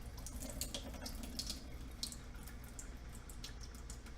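Rinse water drains out of a can of peas, a continuous splashing pour like a running tap, close and steady with small drips and no talking.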